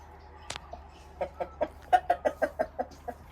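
A rooster guarding laying hens: a chicken clucks in a quick series of short, rhythmic calls, close and moderately loud, after one sharp squawk at the start.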